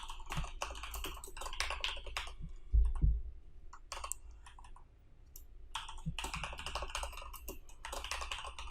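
PHP code being typed on a computer keyboard, quick bursts of close key clicks separated by short pauses, with one louder thump partway through and no speech.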